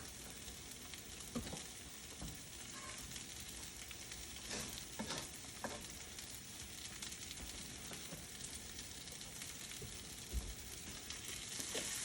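English muffins fry in butter in a pan, producing a quiet continuous sizzle with occasional soft pops and a few light knocks as they are pressed down.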